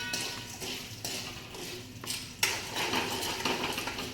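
Corn kernels stirred in a pot with a little salt to make homemade popcorn make repeated scraping and rattling clicks in an irregular rhythm, close and moderately loud.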